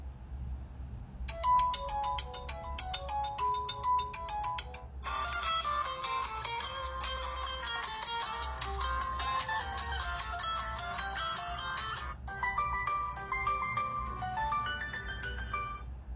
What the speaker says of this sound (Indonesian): kita coba suara speaker dari Technospark 7 Pro ini untuk memutar ringtone